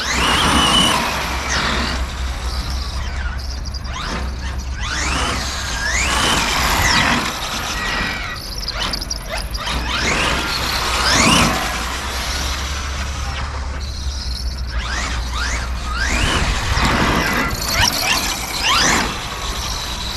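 An FG SportLine 4WD 530 radio-controlled car, FG R8 body, runs and brakes on the ground, making repeated tire squeals and skids, a whining motor and rising and falling engine bursts, loud and close, with no talking.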